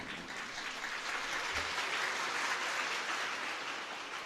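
An audience claps steadily and densely throughout at a religious discourse on Shiva and Bhagwati, with a broad, continuous wash of applause and no pauses.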